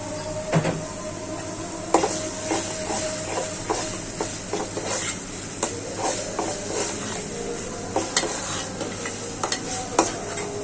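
Meat and onions with ginger-garlic paste, garam masala and green chilies stirred in a hot wok, giving a steady loud sizzle broken by repeated sharp scraping clacks of the spatula against the pan throughout.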